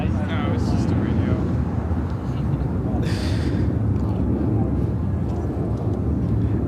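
A Contour Aviation CRJ 200 LR regional jet takes off from Chicago O'Hare for Kirksville: a loud, steady, close engine roar with deep rumble runs unbroken through the whole stretch, with brief breathy hisses and some voice-like sounds over it.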